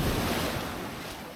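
Ocean surf washes onto a beach on Hainan island, a broad, steady rush of breaking waves close by with some wind buffeting the microphone, no voices.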